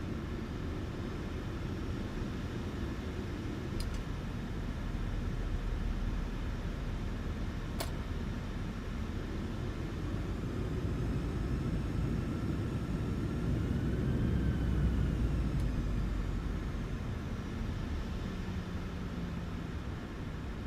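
A Boeing 737-800 airliner in Microsoft Flight Simulator 2020 sits on the ground with a steady, low engine rumble and broad whooshing noise that swells gently, broken by a few faint clicks.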